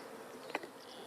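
A swarm of honeybees settled close by hums steadily and faintly all around, a soft continuous buzz with one brief louder pass near the middle.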